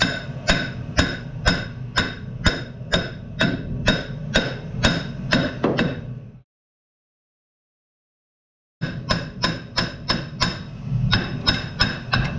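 Repeated hammer blows strike rusty rear brake parts on a Fiat Ducato, a steady run of sharp metallic knocks roughly twice a second, close and loud, broken by a couple of seconds of silence before the hammering resumes.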